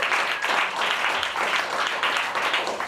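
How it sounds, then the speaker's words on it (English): An audience applauds at a competition after scores are read out, a steady wash of clapping sustained for a few seconds at moderate volume. "Big round of applause for her."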